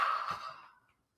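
A person yawns during a breathing warm-up, a long breathy exhale that fades out over about a second, close and alone.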